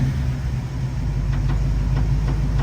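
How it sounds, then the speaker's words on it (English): A 1969 Chevrolet Camaro's low, steady engine rumble with faint rhythmic rattling clicks from the exhaust hitting the rear fender, constant and close. "The rattling is the exhaust. It's hitting on the fender back here"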